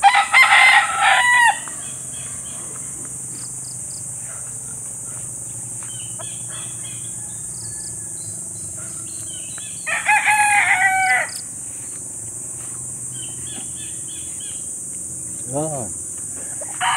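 Chickens around a nipa hut in the countryside, with loud clucking and calls in two close bursts and a short rising crow near the end, over a steady bed of insect and cricket noise.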